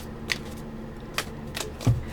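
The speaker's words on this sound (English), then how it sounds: "I'll go ahead and shuffle them separately and then you'll see me put them together" A deck of tarot reading cards is shuffled by hand, giving soft papery riffles and light taps at an irregular rhythm over a quiet room hum.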